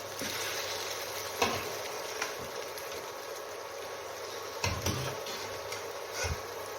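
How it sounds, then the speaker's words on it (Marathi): Cooked mutton goes into simmering masala in a pan for a spicy mutton head curry, with a low continuous sizzle and a few scattered scrapes and clinks of stirring. "तर इथे आपला मसाला शिजलेला आहे शिजवलेलं मटण टाकून घेऊया"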